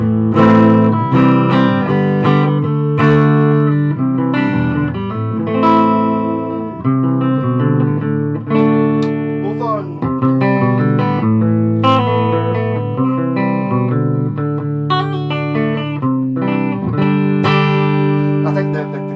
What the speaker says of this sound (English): playing through my Laney VC30, I'm using that cabinet there, there's no pedals on.